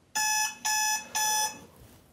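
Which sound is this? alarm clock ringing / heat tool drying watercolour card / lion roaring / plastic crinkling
alarm clock ringing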